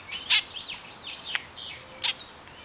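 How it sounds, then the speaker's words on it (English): A small blackbird in a garden bed gives a series of thin chirps and short whistled calls, with a few sharper tweets standing out over faint ambient hiss. "Look at this little chubby blackbird right here in my bed."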